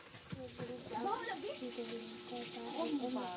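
Fish sizzles as it fries in a pan, a steady crackling hiss running beneath people talking close by.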